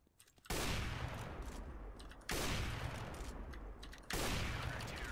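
Gunfire in the video game CS:GO, three sharp loud bursts, each opening with a hard crack that decays into a sustained noisy tail, spaced about two seconds apart, with no talking.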